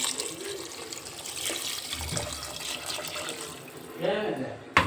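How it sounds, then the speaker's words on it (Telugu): Water poured from glasses into a pot of rice being cooked for chicken biryani, a soft steady splashing and trickling at close range that swells louder near the end. "2 గ్లాసులకి 4 గ్లాసులు వాటర్ వేసానండి."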